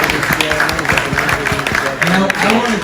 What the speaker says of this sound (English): applause for sticking with this until the end